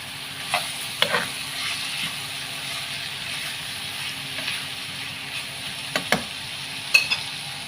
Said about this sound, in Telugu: కట్ చేసి పెట్టుకున్న టమాటా ముక్కలు అయితే వేసేసుకున్నాము